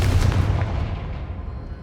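A Confringo blasting spell is cast in the video game Hogwarts Legacy, producing a loud booming burst like a blast or shot that rumbles and fades over about two seconds, with no talking.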